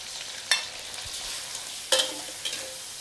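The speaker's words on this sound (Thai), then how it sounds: "น้ำมันร้อนได้ที่กระทะร้อนค่ะให้เอากุ้งลงไปเลยค่ะ" Faint sizzling and crackling of shrimp frying in hot oil in a wok, with a few sharp clatters of stirring, no one speaking.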